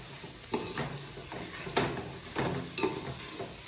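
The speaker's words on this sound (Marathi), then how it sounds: "त्याला मस्तपैकी आता मम्मी मिक्स करत आहे सगळं घालून." Biryani masala mixed with yogurt and squeezed lemon is stirred in a pan, giving a series of soft scraping and squelching strokes about every half second, close by with a faint sizzle beneath.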